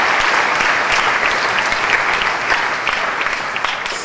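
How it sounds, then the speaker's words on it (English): Steady, loud applause from a student audience during a freshers' week welcome, dense clapping from many hands sustained evenly throughout without pause. "please give them a round of applause as I introduce them"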